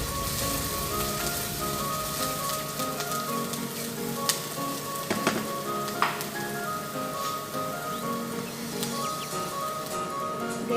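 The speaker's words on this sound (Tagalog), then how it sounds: "Ginigisa ko siya." Garlic and onion sauté in a hot pan, giving a continuous dense sizzle with scattered pops and crackles that holds steady the whole time, with no talk.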